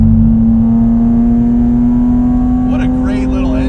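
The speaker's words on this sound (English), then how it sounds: "Except obviously the exhaust is very predominant." Modified BMW Z3M Coupe with an S54 engine, heard from inside as a loud, steady exhaust drone holds a constant tone, with a voice speaking briefly near the end.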